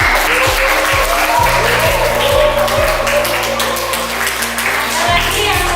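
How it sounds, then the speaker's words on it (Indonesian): Students in a classroom clap together, a loud close burst of dense applause that runs steadily, with low tapping thumps and some voices underneath it. "tepuk tangan buat mereka."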